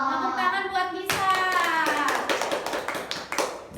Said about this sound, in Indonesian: Tepuk tangan buat Nisa.